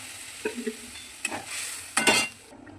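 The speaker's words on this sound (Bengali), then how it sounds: "ডালটা ঢেলে দিলাম" Boiled mung dal for a fish-head dal recipe poured into a pan and stirred, with a few soft scraping stirs and a brief louder sizzling burst near the end, quiet overall and without talk.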